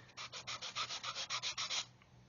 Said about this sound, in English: sand away until that ejector pin mark is gone